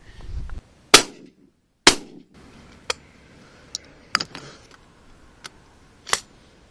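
Shotgun shots fired while decoying birds in Wales, a series of sharp, loud reports with short decays, about six or seven spread across a few seconds over quiet outdoor background.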